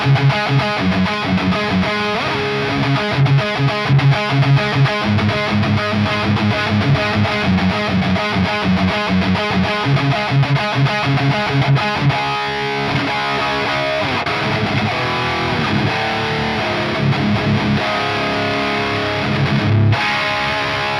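Electric guitar with fuzz distortion played through a Fractal AM4, thick saturated chords and riffs in a steady rhythmic pattern with modulation and low reverb, continuous and loud with no talking.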